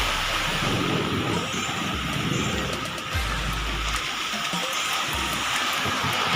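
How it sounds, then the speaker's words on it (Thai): Heavy rain pours steadily in Mae Ai district, Thailand, in a dense, continuous roar with low rumbling underneath, loud and close throughout. "ตอนนี้ครับฝนตกที่ อำเภอแม่อาย"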